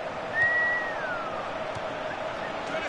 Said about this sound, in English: I'm going to blow the whistle